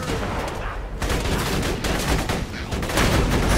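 Rapid gunfire from a deployable twin-gun turret in the video game Borderlands 2, dense overlapping bursts of shots packed closely together with a chaotic, loud combat texture throughout.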